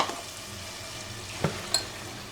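Onion paste fries with spices in a pan, giving a steady, close sizzle broken by two sharp scrapes of stirring.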